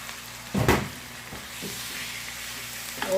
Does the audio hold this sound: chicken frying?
yes